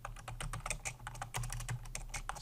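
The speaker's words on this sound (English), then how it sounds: "Then I can double click inside the box and start typing" Quick, irregular clicking of keys on a computer keyboard, close up, with a low steady hum underneath.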